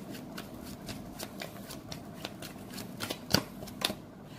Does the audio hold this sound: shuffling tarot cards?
yes